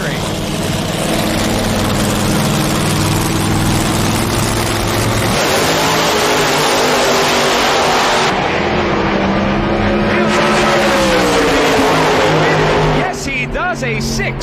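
Altered drag racing cars blast down the strip with a loud, sustained engine roar and rising revs, continuous at close range before a sudden cut near the end, with talk under the noise.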